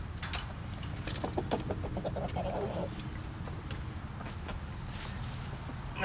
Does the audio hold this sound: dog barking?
no